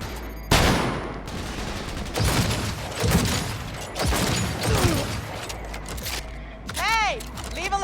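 Gunfire in the video game Cyberpunk 2077, bursts of rapid shots and sharp blasts with mechanical clatter and sweeping electronic effects, mixed with a voice speaking amid the combat.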